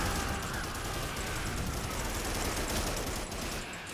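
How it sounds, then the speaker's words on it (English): Grenade explosions in the Primal Carnage multiplayer game, a continuous dense crackling barrage of blasts and gunfire-like bursts at steady moderate loudness, without voices. "Grenade spam!"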